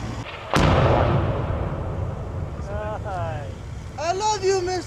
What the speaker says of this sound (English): There's a big explosion.